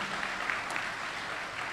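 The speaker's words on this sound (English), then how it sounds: "take a moment to applaud the family and the friends, the faculty, the executives" A commencement audience at a health professions graduation gives steady, moderately distant applause, a dense wash of clapping with no voices over it.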